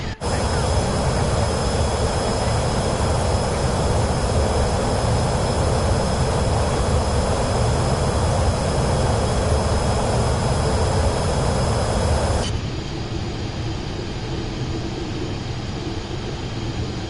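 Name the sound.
Pilatus PC-24 jet taking off, Microsoft Flight Simulator 2024 video game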